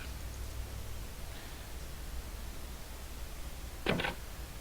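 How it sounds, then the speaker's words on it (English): Over a quiet hiss of background noise, a single brief metallic snick sounds near the end, a lock clicking open in the video game Quest for Glory 1. "You hear a snick, the lock is open."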